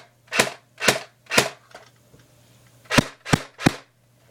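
Semi-automatic shots from a Pulse R76 airsoft gun: six sharp, loud, close reports, three evenly spaced, a pause, then three more in quicker succession, with no talking.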